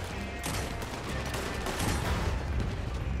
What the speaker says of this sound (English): Shoot that oil wagon.